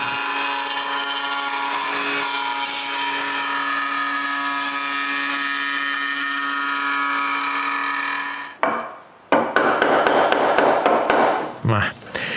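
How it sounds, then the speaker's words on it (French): A router fitted with a rabbeting bit cuts rabbets in wooden drawer sides for the drawer bottoms, a loud steady high whine for about eight seconds, followed by a run of sharp knocks and bursts of cutting noise. "Faire une feuillure avec une mèche à feuillure là, laisse toujours les coins ronds."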